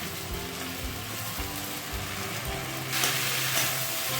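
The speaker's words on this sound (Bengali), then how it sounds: "এরপর সেদ্ধ করা শাক আলু বেগুনের মধ্যে দিয়ে দেব।" Boiled drumstick greens are added to potato and eggplant cooking in a pan, giving a steady crackling sizzle with stirring scrapes and a brief louder burst of frying near the end.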